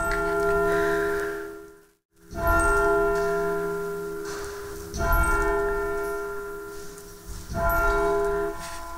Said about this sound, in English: The bell rang at 12 noon when the monks entered the church to recite the Divine Office